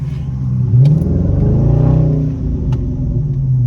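A Dodge Charger R/T in sport traction mode revs hard with its wheels spinning, a loud close engine roar that rises and holds for a few seconds, with no talking.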